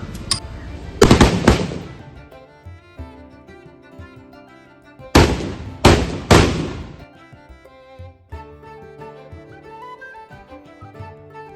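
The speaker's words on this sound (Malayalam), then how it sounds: "പോയ സ്ഥിതിക്ക് നമ്മളും ഒരു വെടിവഴിപാട് നടത്തി." Two volleys of loud, sharp firecracker blasts at a temple ritual, three in quick succession each time, ringing out over sustained festive instrumental music.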